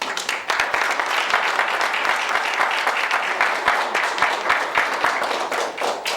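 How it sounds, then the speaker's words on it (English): An audience claps steadily for a speaker taking the stage at a gathering, a dense and sustained round of applause with sharp individual claps standing out, loud throughout. "Let's give him a round of applause."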